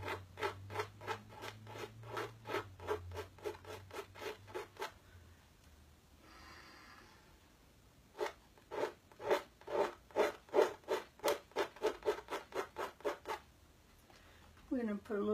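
Charcoal scrubbed across paper in quick repeated back-and-forth strokes, a dry rhythmic scratching close to the ear, pausing briefly before resuming faster.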